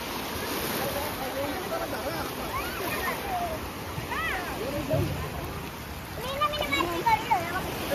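Waves wash and splash in a constant surf, while people shout and call out excitedly over the water.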